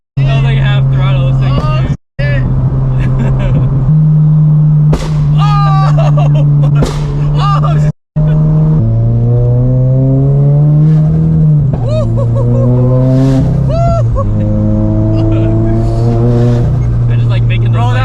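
A turbocharged Subaru BRZ making over 500 horsepower revs hard and loud, its engine note held at a steady drone and rising in pitch through several throttle blips, with brief cuts between pulls.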